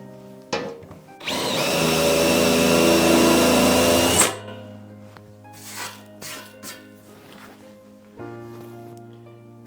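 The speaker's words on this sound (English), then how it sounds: "So the first thing to do will be to make appropriate size countersinks for the screws." A power drill bores countersinks for M4 screws into the lower hull of a 1/6 scale Armortek Panzer III RC tank, one loud sustained whirring burst followed by quieter intermittent buzzing and handling clatter.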